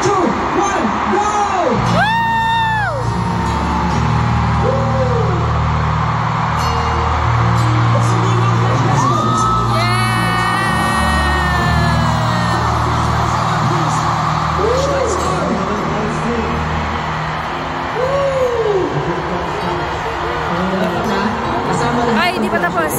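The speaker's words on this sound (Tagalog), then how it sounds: "Samahan nyo lang naman ang sigaw pabalik ha, samahan nyo lang sigaw." Huge arena concert crowd at the Philippine Arena shouting back on cue during a show, loud massed yells and whoops rising in waves, with a performer's amplified voice calling out over the roaring audience.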